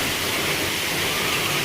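Water gushes down beside an apartment door in a flooded building, a loud, steady roaring rush heard close by, with no voices.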